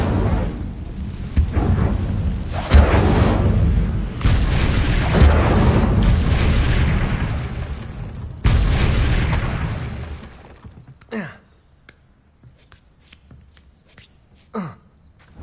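A fire spell cast in the video game Hogwarts Legacy, heard as a loud, sustained booming rush lasting several seconds before cutting off, followed by quieter scattered effects.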